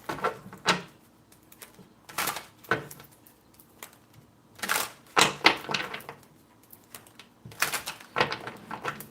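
Tarot cards being shuffled, close and quiet, in several separate bursts of riffling and tapping with short pauses between them.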